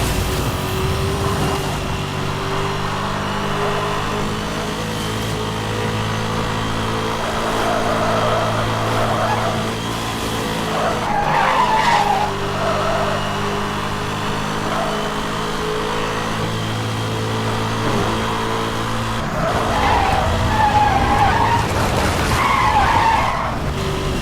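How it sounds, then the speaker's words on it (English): Supercar drifting in Need For Speed: Hot Pursuit 2010, loud sustained engine drone with repeated tire squeals and skids in bursts, a voice speaking occasionally over the racing. "That's some sharp drifting."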